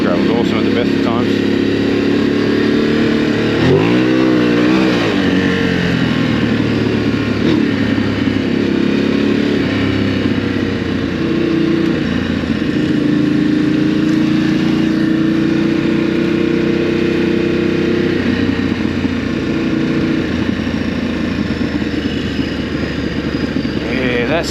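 Ducati Desert X motorcycle ridden over relatively dry pea gravel in Australia: a loud, continuous engine drone heard close up with rising and falling pitch sweeps, layered with wind rush and gravel crunch throughout.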